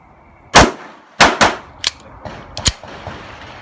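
Avidity Arms PD10 pistol fired outdoors in several sharp, loud shots, two spaced close together and then quicker bursts of rapid pops with quieter echoes in between.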